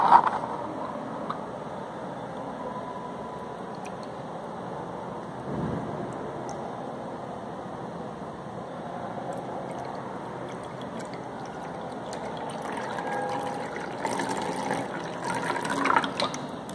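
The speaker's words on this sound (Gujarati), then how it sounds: "આ બાઉલમાં સૌ પ્રથમ હું આ બોટલમાંથી પાણી રેડીશ. હું આખો જ બાઉલ ભરી દઈશ." Water pours from a bottle into a bowl in a classroom experiment, a soft continuous fill that runs on, growing slightly louder near the end.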